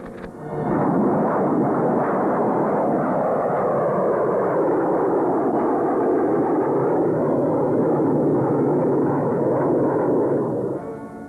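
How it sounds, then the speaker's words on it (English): A Silver Dart jet aircraft fires up at a proving ground, starting a loud, steady, broadband roar about a second in that holds without a break until the end. "Icky, fire up the silver dart"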